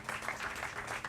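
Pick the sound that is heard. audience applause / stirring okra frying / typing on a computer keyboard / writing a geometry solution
audience applause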